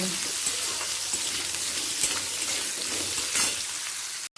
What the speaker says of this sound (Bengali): এরপর আলুগুলো দিয়ে ভেজে নেব